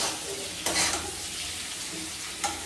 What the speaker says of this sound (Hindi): इधर बना रहे हैं हम बड़ी आलू का सब्जी